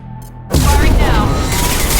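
A heavy weapon fires in a video game with a sudden loud boom that opens into a sustained roaring rumble and whine, following a brief quiet electronic beeping.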